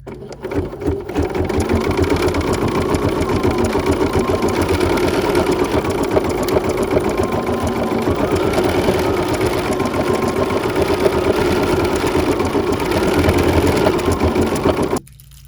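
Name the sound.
Bernina embroidery sewing machine stitching out a design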